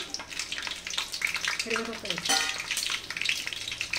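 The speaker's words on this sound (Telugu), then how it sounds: "పచ్చిమిర్చి, కరివేపాకు ఆయిల్లో వేగితే బాగుంటుంది." Green chillies and curry leaves frying in hot oil for a fish curry, a close, steady sizzle with stirring scrapes through a few seconds, with a voice faintly present.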